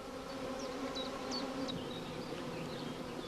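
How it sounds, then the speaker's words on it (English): Honey bees buzz steadily around a hive in an apiary, a dense continuous hum with faint higher chirps drifting above, close and even throughout, no voices. "The bees will cluster around the caged queen within the next few hours."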